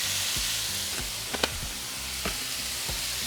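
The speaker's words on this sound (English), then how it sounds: "once we have broken down our chorizo, now we're going to throw in our ground beef" Ground beef and chorizo fry in a pan with a steady broadband sizzle, broken by a few sharp scraping stirs and clicks of the utensil against the pan, close and continuous with no talking.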